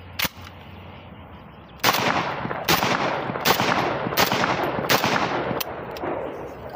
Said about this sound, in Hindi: सिंगल फायर कर दिया